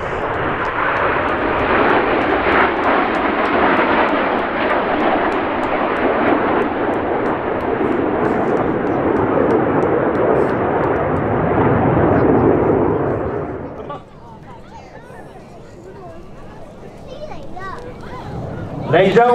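Red Arrows jets fly a display at an air festival, a loud sustained roar of jet engines sweeping overhead for most of the clip before dropping away to quieter background noise, with a commentator talking over it.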